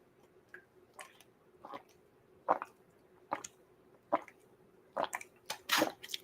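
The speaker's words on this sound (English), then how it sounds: "you guys just get ASMR of me gulping water." A person gulps water in a series of separate, close swallowing clicks and wet gulps, irregularly spaced and growing denser toward the end, against a quiet background.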